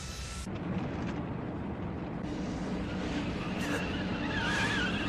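A car in an anime races recklessly with a sustained roaring, rushing engine and tire noise, loud and continuous, with a rising squeal of skidding toward the end.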